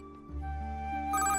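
A telephone rings with a bright electronic ringtone, steady tonal notes that rise in pitch toward the end, close and clear with no talking.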